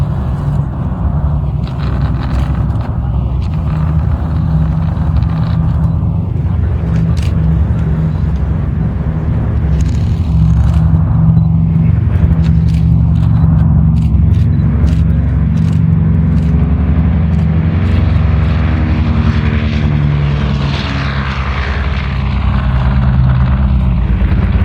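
B-29 bomber Fifi taxiing after landing, its piston engines droning in a loud, steady rumble that rises and shifts slightly in pitch as the plane rolls past.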